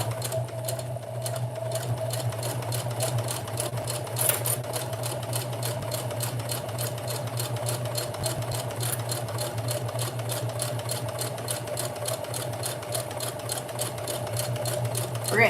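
A sewing machine runs in a fast, even stitching rhythm, close and continuous, pausing briefly as it switches to back stitching and then carries on.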